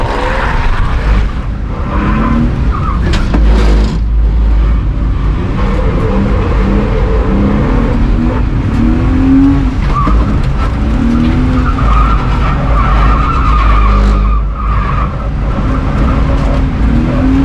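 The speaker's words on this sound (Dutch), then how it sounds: "We zijn dus op het Lelystad driftcircuit samen met Driver ID." Drift cars on the freshly resurfaced Lelystad drift circuit, engines roaring loud and close with high revving and wavering pitch, punctuated by long tyre squeals and skidding, continuous throughout.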